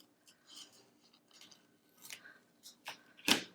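Scissors snipping paper for a planner, a handful of soft close crisp cuts and rustles at irregular intervals, quiet overall with one sharper snip near the end.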